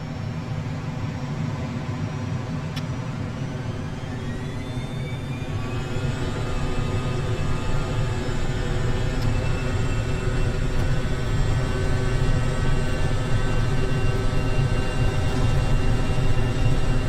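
Steady, rising roar and whine of the twin jet engines of an FSLabs A320 spooling up for a takeoff roll in the Prepar3D flight simulator, with high turbine tones sweeping upward over a continuous broadband rumble.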